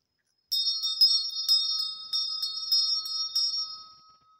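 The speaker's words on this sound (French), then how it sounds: "ça fait comme un chant subtil cette cloche." A small bell struck repeatedly at a steady pace, each bright metallic ring overlapping into a sustained high shimmer that fades out after the last strike, heard alone in silence.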